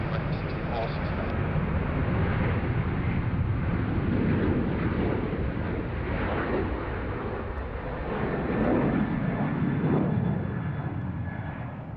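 An airliner's jet engines roar on departure from runway 34 left at Sydney Airport during the afternoon rush, a loud continuous broadband rumble that swells and fades a little over twelve seconds, with a voice talking over it.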